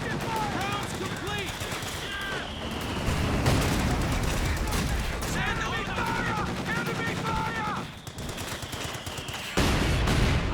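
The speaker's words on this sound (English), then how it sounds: "Yep, and then mortars doing some work." Mortar and gunfire in the video game Company of Heroes 2 crackle in rapid bursts of machine-gun fire with heavier booms, an almost continuous battle din mixed with game sound effects.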